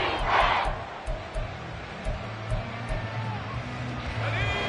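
Stadium crowd noise swells and roars through a Madden 24 football game broadcast late in the fourth quarter near the goal line, a steady dense wash with a rise toward the end, while commentary plays over it.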